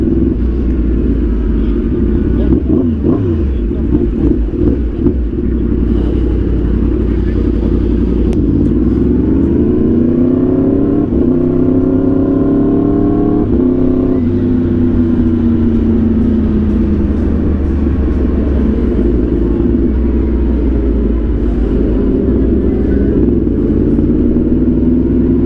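A Yamaha R1 motorcycle on a Miami beach outing revs its engine loud and close, its pitch climbing and falling in a couple of surges over a constant rumbling idle, with no talk.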